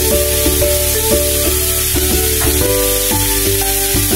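Fried tofu sizzles loudly and steadily in a pan as oyster sauce goes in, a constant close frying hiss with a faint rhythmic tonal hum beneath it.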